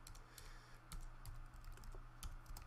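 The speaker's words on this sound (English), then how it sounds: "If I can type here" Typing on a computer keyboard while writing iOS code, a steady run of light key clicks with a few sharper presses, quiet and close, with no voices.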